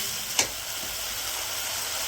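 Meat hits hot spiced masala in a village kitchen with a sharp splash and hiss, then a continuous soft sizzle carries on steadily.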